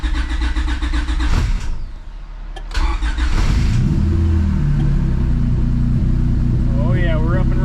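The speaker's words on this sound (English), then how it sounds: "let's go ahead and see if this thing will fire up real quick." A stroker V6 swapped into a Honda Civic cranks briefly, then catches and settles into a steady, loud idle close by, with a voice speaking over it near the end.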